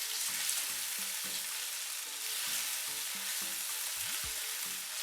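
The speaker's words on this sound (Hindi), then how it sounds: "आलूओं को मसाले के साथ अच्छे तरीके से भून लेंगे।" Long-cut potatoes fry with spices in a pan, a soft steady sizzle running throughout beneath recurring tonal musical notes, fairly quiet with no talk.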